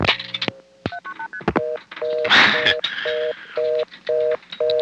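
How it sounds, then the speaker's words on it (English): Multi-frequency tones are dialed from a 1974 coin phone in Wellfleet, Massachusetts: a rapid series of short, evenly spaced two-tone beeps with clicks between them and a burst of line noise partway through. "Those MFs you heard were the last 3 digits of my number"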